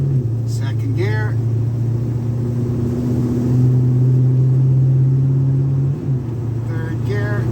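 A 1953 Ford F100 hot rod pickup rumbles steadily along a street, its engine droning low and close with a brief change in pitch near the end as a gear shifts.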